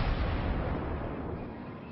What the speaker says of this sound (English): And even though Claus turned, look, this can still shoot.